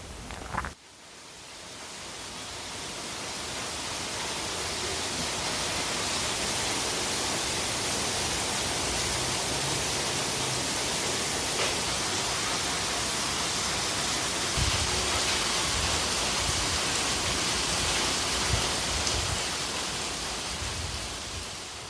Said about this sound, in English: We do get rain at times, and when it does, it's heavy, making everywhere flooded